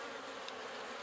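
Honey bees swarm over a nectar-filled frame lifted from a horizontal beehive after winter, giving off a close, continuous buzzing hum.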